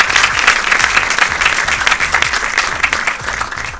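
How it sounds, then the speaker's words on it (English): Dense audience applause at a quiz event honouring a First Lady, steady loud clapping from a large crowd lasting several seconds with no voices over it. "Give them another round of applause."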